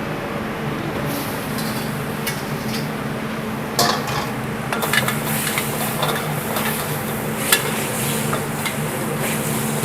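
Fried tofu is stirred into a thickening sauce in a pan while cooking a simple Chinese-style tofu dish: steady scraping and stirring with a soft sizzle, plus a few sharper clinks of utensil against pan, close and without talk.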